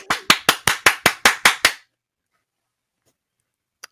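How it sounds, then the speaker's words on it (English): A single person clapping about eight times in a quick, even rhythm, close and sharp, then abrupt silence apart from one faint click near the end. "Thank you for the applause."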